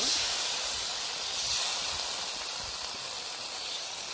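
Spice paste frying slowly in a pan for a potato and egg curry as its water cooks off, giving a steady, even sizzling hiss that holds for several seconds with no voices.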